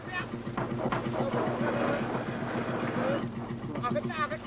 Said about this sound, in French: Le moteur faiblit, on le pousse